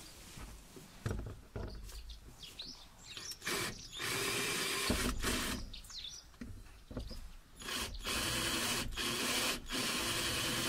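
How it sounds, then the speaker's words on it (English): An electric drill bores into metal inside a Land Rover Discovery 2 TD5 near the gear shift, running in several loud bursts with short pauses between them, plus a few faint clicks and handling knocks. "So we'll get drilling here first."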